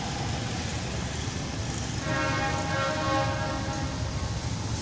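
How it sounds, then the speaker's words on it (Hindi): A train pulls in at Karachi Cantt railway station, a steady rumbling wash with a faint tonal horn-like whine rising midway, sustained throughout with no talk. "ट्रेन आई है एक, शायद से आवाज़ आई है ट्रेन की।"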